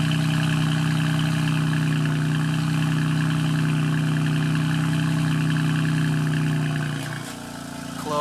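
A 2019 BMW M4 Competition with secondary cat delete idles with its exhaust valves open, a loud steady low rumble holding for several seconds before dropping off near the end.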